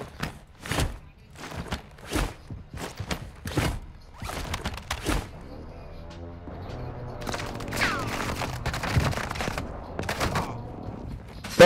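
Gunfire in the video game Call of Duty: Modern Warfare II: a run of loud, sharp separate shots over the first few seconds, then a denser stretch of rapid, overlapping bursts with rumble and clatter, with no talking.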